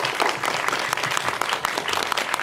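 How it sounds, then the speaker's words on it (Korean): Audience at a Seoul Independent Film Festival screening talk breaks into steady, dense applause that fills the hall evenly, with no voices over the clapping. "박수 한번 부탁드립니다"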